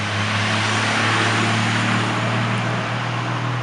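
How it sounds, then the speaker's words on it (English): Steady road traffic rumbles past outside, a continuous low engine drone and tyre hiss holding at a fairly loud level throughout. "I'm really sorry about the traffic"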